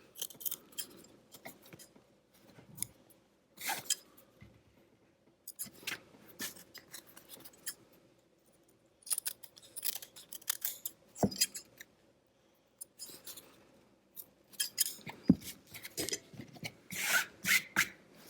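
Scissors trim sewn fabric for a Polichinelle doll, producing intermittent close snips and rasping cuts in scattered bursts separated by quiet pauses.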